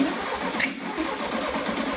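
The engine of a 1973 VW Sports Bug, just tuned up, cranks and catches, then settles into a loud, close, steady air-cooled idle with a brief sharp hiss near the start.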